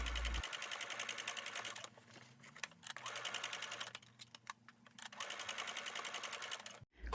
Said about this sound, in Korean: 크라운을 위쪽에 놓고 박음질 하시겠습니다